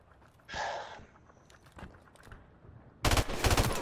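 Submachine gun fire from an MP5 with a red dot sight in a multiplayer shooter game: a short burst early on, scattered shots and footsteps, then a loud, sustained close burst at the end.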